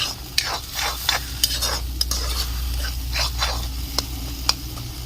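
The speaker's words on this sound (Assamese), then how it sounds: "এতিয়া মাছৰ তেল আৰু বেঙেনা ভাজি হৈ গ'ল" Brinjal frying in fish oil, a steady close sizzle broken by sharp clinks and scrapes of a spatula stirring against the pan, with no voices.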